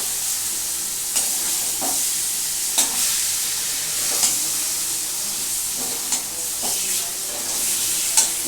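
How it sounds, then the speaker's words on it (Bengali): Boal fish stirred in a hot pan, a continuous oily sizzle broken by several scraping, clattering strokes of the spatula, close and moderately loud with no talk. "এবার এইটাকে আমি সুন্দর করে এর মধ্যে একটু নাড়াচাড়া করবো"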